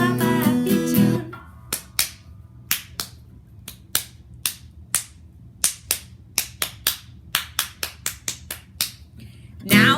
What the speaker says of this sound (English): Let's clap a happy tune.